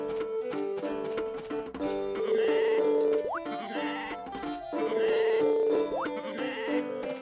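Sheep bleat repeatedly in a farming video game, the calls coming in two drawn-out waves over light game music with chimes and tinkling effects.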